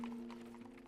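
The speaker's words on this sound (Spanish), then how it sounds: "El estruendo de un disparo sobresalta al caballo que apura el paso hasta llegar a destino." A horse's hooves clip-clop at a steady walking rhythm while it pulls a carriage on a July day in 1896, with a low steady hum running beneath the hoofbeats.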